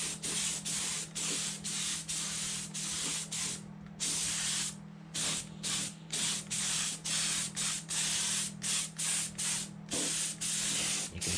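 Short bursts of aerosol spray paint hiss across a large 3D printed model of the classic Disney Nautilus submarine, some twenty rhythmic close pulses separated by brief pauses, with a low steady hum underneath.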